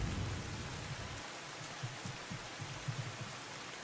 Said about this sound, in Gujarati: વરસાદ જે છે હાલમાં વરસી રહ્યો છે